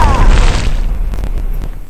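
Machine-gun fire and explosions in the online shooter Red Crucible 2: a loud booming blast opens, followed by rapid crackling bursts that fade over two seconds.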